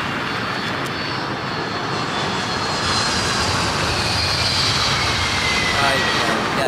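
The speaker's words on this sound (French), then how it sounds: "Alors l'avion est en train de se crasher." A steady, loud roar of a crashing airplane's engines and rushing air in the survival game The Forest fills the scene continuously, a dense wash of sound that builds slightly toward the end.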